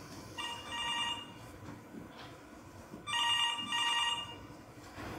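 An office telephone rings in two bursts of electronic trilling, the second one louder and closer, with a quiet pause between them and no voices.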